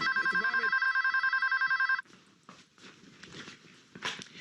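Telephone bell ringing in a TV scene, a rapid electric trill held for about two seconds, then cut off, followed by faint rustling and footsteps.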